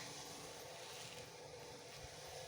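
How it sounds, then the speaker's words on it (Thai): A water suction pump runs somewhere nearby, a faint, steady broadband whoosh and hum with light wind-like noise, continuous and unbroken, with no speech over it. "ก็มีเสียงเครื่องดูดน้ำรบกวนนิดหน่อยนะ"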